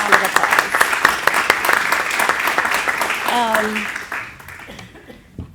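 An audience claps loudly for volunteer firefighters at a county board meeting, a dense, steady round of applause with a few voices and light laughter mixed in before it tapers off.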